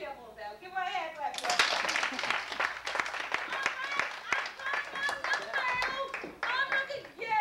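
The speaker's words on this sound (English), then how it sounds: "Give her a hand clap." An audience claps hands together in a dense, steady burst of applause that starts after about a second and continues throughout, with voices talking and calling out over the clapping.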